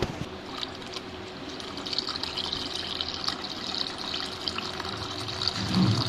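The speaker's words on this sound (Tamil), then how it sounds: "இந்த பாலை இதில் சேர்த்துடலாம்" Milk pours steadily into a pot of payasam, a soft continuous trickle and splash close by, growing slightly fuller toward the end.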